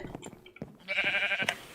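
A sheep bleats in Minecraft, one short wavering bleat heard close and clear after a few brief clicks and bumps.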